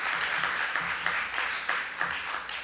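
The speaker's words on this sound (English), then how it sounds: "Let's give a hearty round of applause" An auditorium audience at a book launch applauds, a soft, continuous wash of many hands clapping at a moderate distance, with no voices over it.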